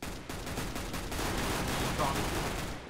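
Rapid gunfire in a competitive Counter-Strike GO match: a dense, loud stream of shots rattles without pause for the whole stretch.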